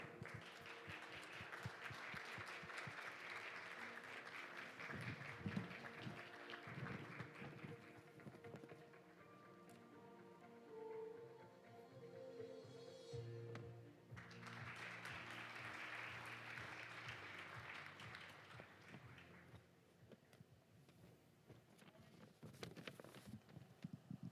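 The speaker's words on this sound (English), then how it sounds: "Please welcome Mr. Hyun with a warm round of applause." Steady applause from a large audience at an international judicial conference, with a swell of clapping that briefly fades and then rises again before continuing to the end.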